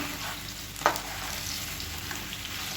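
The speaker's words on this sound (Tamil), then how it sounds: "இப்போ இந்த எண்ணெயில் நல்லா பிரட்டி விட்டுக்கலாம்." Plantain pieces tossed in hot oil give off a continuous moderate sizzle, with one brief clatter of stirring near the start and no talking.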